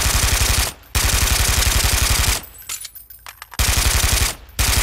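The Fallout submachine gun in the video game Brink fires fast, loud automatic bursts, with a brief pause, then a longer gap filled by reload clicks and clatter before the firing resumes.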